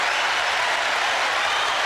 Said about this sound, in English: please give a huge round of applause for Haley Grayless